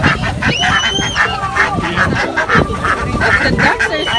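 Ducks and other fowl at a petting zoo during a fall harvest festival quack and honk repeatedly at close range, in a busy overlapping chorus, with people talking nearby.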